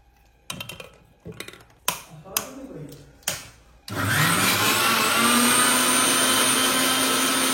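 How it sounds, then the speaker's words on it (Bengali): An electric mixer grinds a spice paste with a little added water for a large koi fish paturi. A few taps and a brief voice come first, then a loud, steady whirring roar runs without a break to the end. "এখন আরেকটু সামান্য জল দিয়ে আবার পিষতে হবে"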